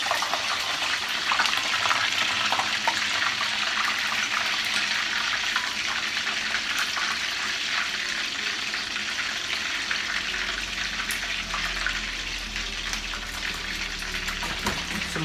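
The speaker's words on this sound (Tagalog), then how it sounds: "Nagpiprito akong manok." Chicken, starting to scorch slightly, fries in a pan with a continuous crackling sizzle, close and steady, with faint background hum and no talking.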